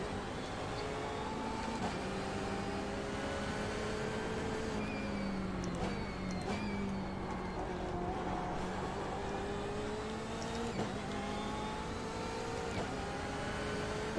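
Engines of LMP2 prototype race cars in the iRacing simulation at Sebring, a steady sustained engine drone with rising and falling pitch as cars close in and pass, loud and continuous throughout.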